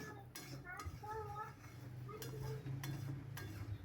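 A metal spoon scrapes and clinks against a pot while boiled peas and soybean chunks are stirred, a few light knocks over a low steady simmer, with faint voices in the background.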